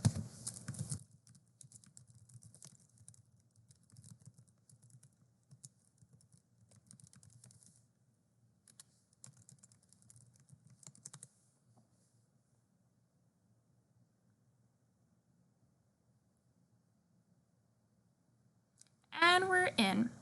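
Computer keyboard keys clatter in short bursts while an email address and password are typed, with quiet gaps between runs and a brief voice at the end.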